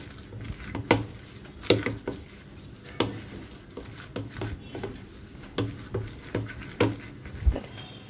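A spoon stirs a spice marinade with a teaspoon of oil, making soft rhythmic scraping and clicking strokes against a bowl, steady and fairly quiet, with no talk.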